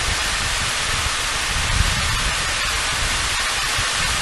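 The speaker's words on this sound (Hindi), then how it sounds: "मूसलाधार बारिश हो रही है" Torrential downpour of heavy rain, a dense steady broadband hiss that continues unbroken and loud throughout with no voices.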